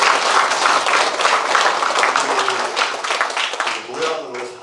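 A crowd applauds at a citizens' town-hall meeting in Janggun-myeon, Sejong City, the clapping loud and sustained before easing, with voices rising beneath it near the end.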